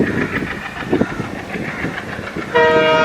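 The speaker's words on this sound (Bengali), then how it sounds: "আরে, ট্রেনটা আমাকে রেখে চলে গেল।" A train rolls steadily past at close range with a rumbling clatter, then a loud sustained horn blast sounds at the end.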